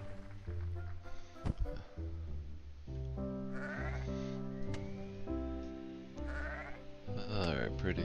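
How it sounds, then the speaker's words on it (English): Sheep bleats from the Town Star farming game sound over steady game music, with several bleats standing out through the clip and some talk mixed in. "Oh, I haven't even been watching my sheep."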